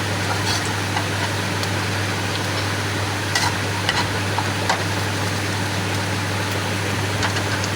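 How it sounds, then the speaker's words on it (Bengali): Onions fry in a pan for kakrol bhaji with a steady, even sizzle over a low hum, with a few faint clinks of stirring. "প্রথমে পেঁয়াজ দিয়ে দিলাম পেঁয়াজ ভাজতে থাকবো"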